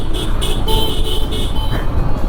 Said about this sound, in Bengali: হর্ন চাপ, হর্ন,